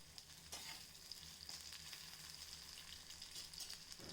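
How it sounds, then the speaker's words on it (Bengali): Long-cut medium potato strips frying in oil in a kadai (wok), a soft continuous sizzle with faint stirring, quiet and close with no voices. "আলুটা আমরা 4-5 মিনিটের জন্য ভেজে নেব"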